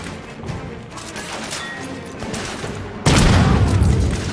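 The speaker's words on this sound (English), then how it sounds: "I'm under heavy fire!" Heavy gunfire during a battle in The Order 1886, a dense volley that turns suddenly loud and close partway through, over softer background combat.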